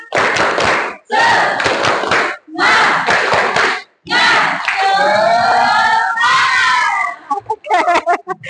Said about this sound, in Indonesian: Kita yel-yel dulu sebentar supaya membangkitkan semangat kita